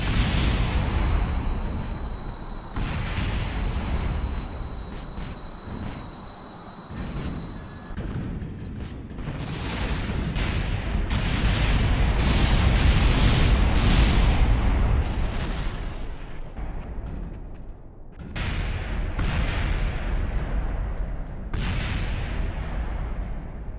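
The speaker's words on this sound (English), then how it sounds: "on the bright side, we get some pretty damage effects and nice explosions" Explosions and crash damage of paper planes in a flight video game, loud rumbling booms and bursts that build into a sustained roar, then break into further blasts, with no talking.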